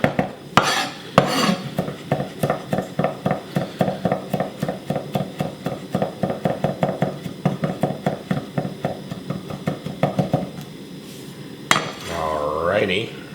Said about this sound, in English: let's just rough chop this